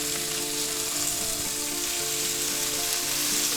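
Pork chops sizzle steadily in a hot pan just after being flipped, a dense, even crackle of frying that holds at a constant level throughout with no voices.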